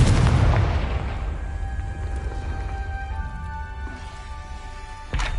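Confringo spell explosion in the video game Hogwarts Legacy, a heavy booming blast at the start that rumbles and fades over several seconds, then a sharp crack near the end.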